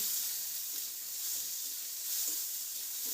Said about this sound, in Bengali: বাদামগুলোকেও একটু হালকা নাড়াচাড়া করে নিয়ে দিয়ে দেব এতে টমেটো কুচি।